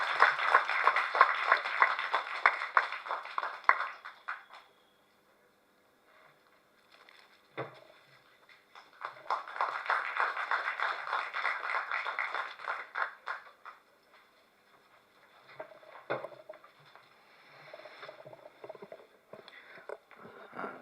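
Applause from the audience at a film press meet greets a music director as he comes to the stage. Two bursts of clapping, each a few seconds long, are split by quiet gaps, with lighter scattered claps and thuds afterward.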